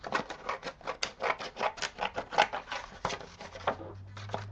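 Paper being roughly cut with scissors for a scrapbook layout, a close, quick series of crisp snipping and crunching strokes that ends in a low hum.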